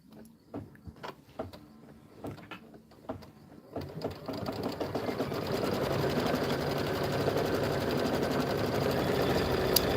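Embroidery machine sewing a quilting stitch on a pillow border, first a few spaced clicks and thumps, then a continuous fast mechanical whir that runs steadily to the end.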